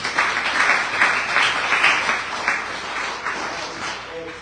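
An audience at a live show breaks into loud, close applause with rhythmic bursts of clapping that gradually thin out over a few seconds, with a murmur of voices underneath.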